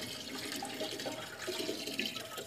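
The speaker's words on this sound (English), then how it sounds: "I'm just going to go for it and pour this straight in, try not to make too much of a mess" Thick coloured liquid glugging and splashing as it is poured into a glass pharmacy carboy in a Victorian pharmacy, close and fairly quiet, with uneven gurgles and no talking.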